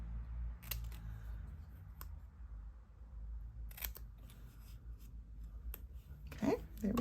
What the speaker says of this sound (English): So I typically cut up the center and then I cut in from each end.